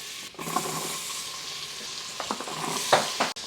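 Vegetables hit melted butter in an Instant Pot alongside browned chicken, giving a steady close sizzle broken by scraping stirs and occasional clacks of a utensil against the pot.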